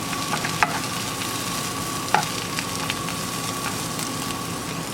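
Crushed tomatoes and tomato sauce being stirred together in a cooking pot, a soft continuous wet scraping with a couple of sharper clinks of the spoon against the pot, close and steady with no talking.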